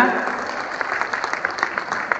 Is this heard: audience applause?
yes